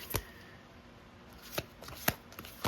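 Tarot cards being shuffled and handled in a quiet room: a few soft, brief riffling and slapping bursts spread across a few seconds over a faint background hiss.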